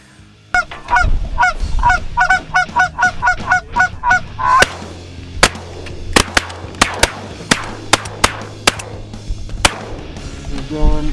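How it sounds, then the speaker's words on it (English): Brant geese honk in a rapid series of calls, then several sharp shotgun blasts crack out at irregular intervals over a low hum. "we had some geese come in, but just only one"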